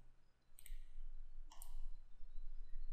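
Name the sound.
mouse click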